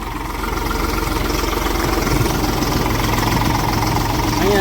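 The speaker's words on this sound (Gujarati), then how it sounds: "હાલે છે મિત્રો એકલું ટ્રેક્ટર જો" A tractor engine runs on its own with no driver aboard, a steady, fairly loud low diesel rumble that idles evenly and continuously for the whole stretch.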